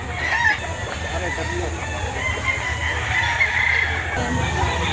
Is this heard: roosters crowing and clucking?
yes